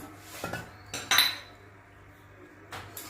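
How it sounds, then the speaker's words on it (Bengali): Washed eggs set into a metal cooking pot, giving a few close clinks and knocks against the pot with quiet pauses between them. "এখন বসিয়ে দিচ্ছি এর মধ্যে ডিম। ডিম বসিয়ে দিলাম,"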